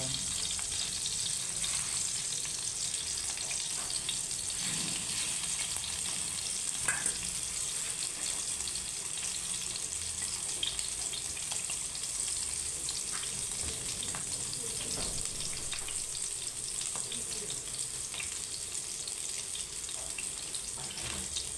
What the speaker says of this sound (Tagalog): Yan ang ating embutido na piniprito.